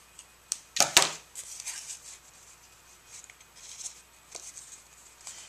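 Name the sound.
paper strip run along scissors to curl it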